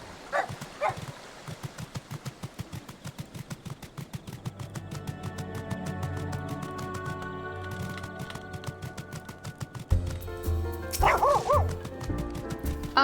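A puppy pet in Final Fantasy XIV gives repeated high yips and little barks, layered over busy game sound effects and a steady stream of rapid clicks, with a louder flurry of yips near the end.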